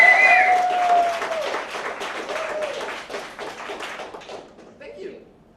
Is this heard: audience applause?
yes